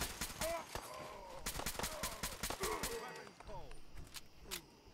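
Gunfire in the video game Fallout 4 crackles in rapid bursts and scattered shots under constant excited talk, with sharp repeated reports through the whole stretch.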